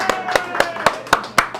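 Round of applause for racing driver Micheal Carter: a handful of close, sharp hand claps in an even rhythm, about six claps over under two seconds, with no talk.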